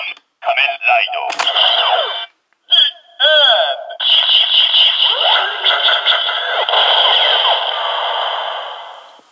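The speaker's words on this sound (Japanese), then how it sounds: "この辺は普通に変身音になります。" A Kamen Rider Neo Decadriver toy belt reading a card plays its transformation sound, with electronic tones and a processed announcer-style voice, loud and close.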